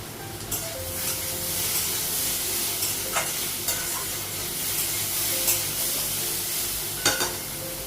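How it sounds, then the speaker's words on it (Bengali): Papaya pieces fry in a pan on a gas stove, giving a steady close sizzling hiss with occasional stirring scrapes and sharper crackles, no voices. "পেঁপেটা ভাজা হয়ে গেছে গ্যাসটা কমানো"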